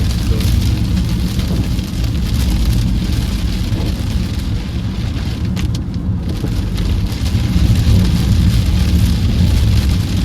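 Steady, heavy rain pours continuously in Italy, a dense hiss with a low rumbling undertone throughout.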